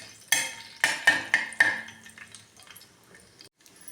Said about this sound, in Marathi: लसूण जिरी व्यवस्थित भाजून घेऊ.